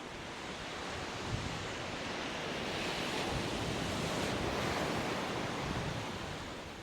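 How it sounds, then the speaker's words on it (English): Ocean surf rolls in a steady, broad wash that swells gently toward the middle and eases off near the end, with no voices over it. "The ocean is here."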